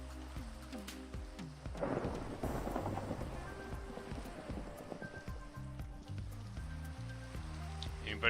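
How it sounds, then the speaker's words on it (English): A Minecraft thunderstorm rolls on with steady rain and repeated low rumbles of thunder, while faint in-game sounds and tones sit beneath the downpour. "Ooh, thunderstorm."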